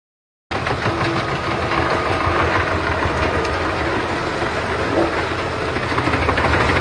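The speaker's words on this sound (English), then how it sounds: "In the middle of a lush forest, a green wood chipper is diligently carrying out its task." A Bandit 3590XL wood chipper with a Rotobec cab loader shreds trees into chips in a forest. After a half-second of silence, a loud, dense mechanical roar kicks in and holds steady throughout, close and unbroken.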